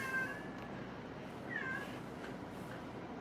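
Indoors at a house, a cat lets out two short meows, a second or so apart, moderately close and clear above a quiet background hum, with no talking.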